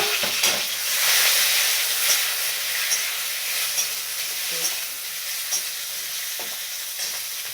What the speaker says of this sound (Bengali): সিমটা দিয়ে একটু নেড়ে আলুটা দিয়ে দেবো